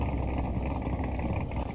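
A V12 car engine in the BeamNG.drive video game drones at a steady, loud rev, a continuous rumbling hum with no break.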